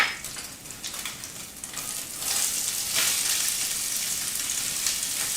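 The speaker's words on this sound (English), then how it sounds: "I'm giving the onions a head start before we add the celery and garlic" Onions sautéing in a soup pot, with celery and garlic nearby, give a steady close sizzle that swells louder and brighter partway through and then holds an even frying hiss.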